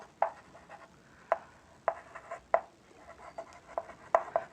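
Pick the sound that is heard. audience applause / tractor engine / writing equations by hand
writing equations by hand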